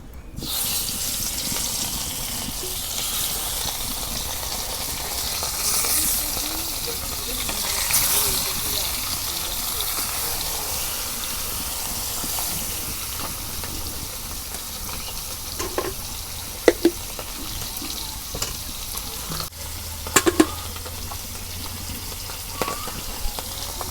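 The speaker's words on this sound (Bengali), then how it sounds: "তেল গরম হচ্ছে, এখন আমি মাছগুলা ভেজে নেই।" Kalbaush fish frying in hot oil in a pan, a steady broadband sizzle running throughout with a few sharp clicks and spatters near the end.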